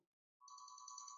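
A phone ringtone starts after a moment of silence and holds a bright, steady electronic tone in a quiet room. It is faint and rings alone, with no voices.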